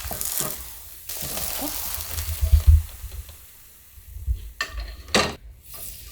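An old pumpkin pancake fries in a hot pan, with soft sizzling broken by a spatula scraping and clattering against the pan in short bursts, all heard close up.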